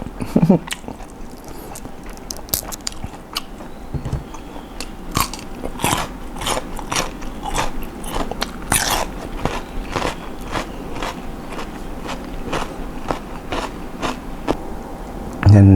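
Crunchy food, including squid eggs, is bitten and chewed close up during a heavy meal, giving a steady run of sharp, crackling crunches and bites for the whole stretch with no talking.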